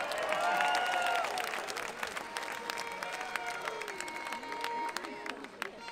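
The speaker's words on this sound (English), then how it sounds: "So give yourselves a massive round of applause." Festival crowd at WOMAD New Zealand applauding a live band, sustained clapping and cheering that gradually thins out, with ringing tones from the stage above the crowd.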